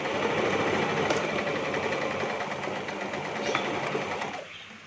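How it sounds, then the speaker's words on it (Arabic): A sewing machine stitches a lining into a crocheted bag with pockets, a close, steady rapid whir of needle strokes that runs without pause and cuts off just before the end. "هبدا ان انا اخيط عليه كده اهو"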